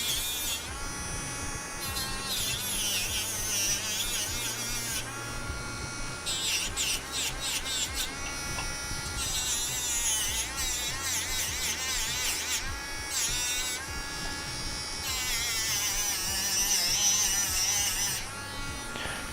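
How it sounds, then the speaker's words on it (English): Small rotary tool whining steadily as it deburrs the cut edges of a metal spoon pendant, a continuous high buzzing with shifting pitch and brief pauses, close and fairly loud throughout. "I'm just using this to take off the little burr from our cut"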